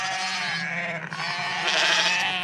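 Ewes and lambs bleating together on a hill farm in early season: a dense, continuous overlapping chorus of many animals at moderate distance, loud and steady with no talk.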